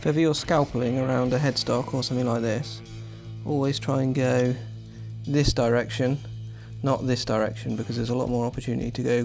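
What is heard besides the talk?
No distinct noise like a dog, phone or traffic.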